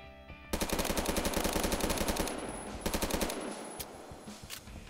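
Automatic rifle fire in the Roblox shooter Phantom Forces rattles in rapid sustained bursts, a long stream followed by shorter volleys and scattered single shots, moderately loud with no talking.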